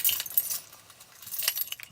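A set of Mercedes car keys jangles in a hand, bright metallic clinks and rattles in two short bursts, close and fairly loud, with no talking.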